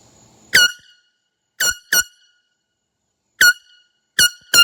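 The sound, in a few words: small Ozark Trail air horn blast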